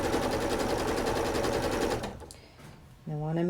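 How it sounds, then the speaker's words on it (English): A sewing machine runs steadily for about two seconds, stitching a strip onto a baby quilt backing, then stops; a person starts talking right after. "Just going to go ahead and stitch it on."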